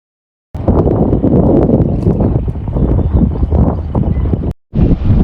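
Strong wind gusts buffet the microphone on the shore of a fishing lake, a loud, steady roar with rustling bursts that drops out briefly near the end before returning.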